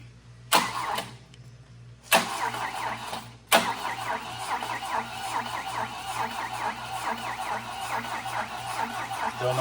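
A 1966 Volvo Amazon wagon with an empty fuel line is cranked during a bump start: a few sharp clunks, then a steady, close mechanical churning that runs on without catching.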